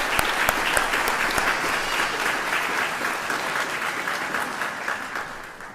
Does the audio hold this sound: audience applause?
yes